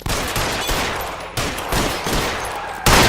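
Dense gunfire from the video game L.A. Noire, a loud continuous fusillade of rapid shots with a couple of brief dips and a sharp burst near the end, no talking.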